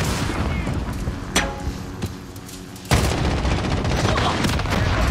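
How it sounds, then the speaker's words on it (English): Video game combat with bursts of rapid gunfire and heavy booming blasts from rocket launcher fire, loud and close, a sharp explosive hit near the middle followed by dense continuous shooting. "They rocket launchered me"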